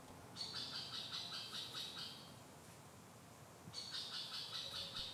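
A bird gives an alarm call in woodland, two bursts of rapid, evenly repeated sharp notes separated by a pause, fairly faint and distant over quiet background noise.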